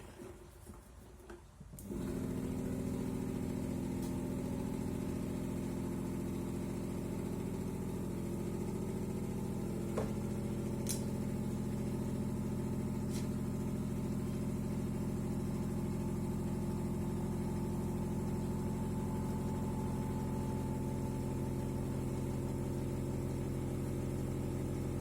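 A vacuum pump drawing the air out of a food storage box of peppers switches on after about two seconds and then runs as a steady, even motor drone to the end, with no talking.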